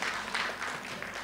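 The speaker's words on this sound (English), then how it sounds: "Let's give her a round of applause." Audience applause at an indoor winter conference seminar, a steady wash of clapping from a crowd lasting the whole short moment, fairly distant and even with small swells.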